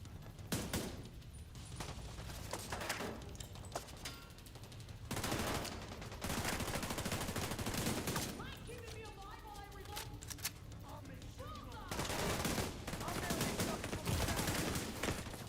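Rapid gunfire volleys from a hardcore realism first-person shooter game, bursts of shots with brief pauses between, fairly close, with a voice talking over parts.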